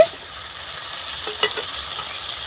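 Masala with turmeric powder being stirred and fried in a pan for a potato and pea curry, a soft, steady sizzle with a couple of sharper scrapes of the spoon partway through.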